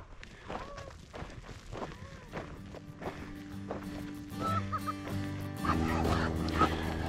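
A dog barks and yips in short bursts while people talk nearby outdoors on a hike, with footsteps and movement; the barking is near and mixed with the voices.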